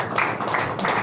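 Audience applause breaking out at a business awards ceremony as an honoree is welcomed to the high table, a steady wash of clapping hands through the whole moment.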